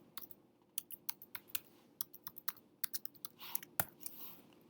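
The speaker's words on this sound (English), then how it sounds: "Then type in your password." Password being typed on a computer keyboard: a quiet, uneven run of light key clicks with short pauses, one sharper tap near the end, and no talking.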